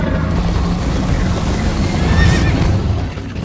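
A horse neighs in a Minecraft Story Mode game scene, a high whinny rising over a steady loud rush of galloping and wind noise, close and continuous throughout.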